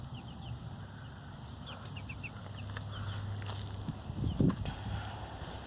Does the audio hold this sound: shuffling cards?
no